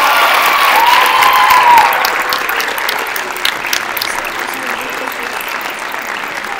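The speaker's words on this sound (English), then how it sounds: "seniors one more round of applause." An audience at a high school winter concert applauds loudly, a dense, sustained burst of clapping that holds steady and then thins slightly toward the end, with a faint voice briefly rising over it early on.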